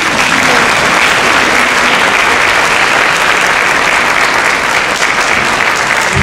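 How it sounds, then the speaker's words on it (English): Loud, dense applause from a large crowd honoring faculty and staff at a 2010 Widener Law graduation ceremony in Harrisburg, steady and unbroken throughout. "Faculty and staff, you may applaud"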